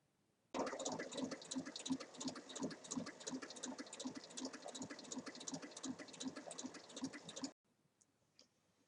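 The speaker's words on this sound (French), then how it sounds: "on va piquer les trois ensemble sur toute la longueur." A sewing machine runs steadily for about seven seconds, stitching a zipper, outer fabric and lining together along the full length of a large multi-pocket bag, then stops abruptly, leaving quiet room tone.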